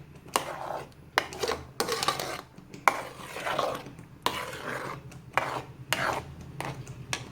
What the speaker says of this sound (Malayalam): നന്നായിട്ട് തിക്നെസ് വരേണ്ടവരെ നമുക്ക് ഇളക്കിക്കൊണ്ടിരിക്കാം